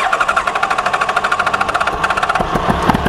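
A Honda CB1300SF motorcycle engine cranks with a fast, even starter chatter, then catches and settles into a rough, throbbing idle close by, heard alone with no talk.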